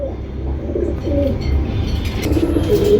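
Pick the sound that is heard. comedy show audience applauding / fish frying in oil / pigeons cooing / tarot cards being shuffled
pigeons cooing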